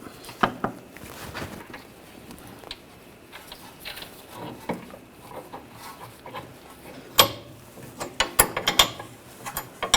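A ratchet tightens a rear shock mount bolt on a 2009-2017 Volkswagen Tiguan, with quiet, irregular clicking bursts and metallic ticks scattered across the span, busier and sharper toward the end.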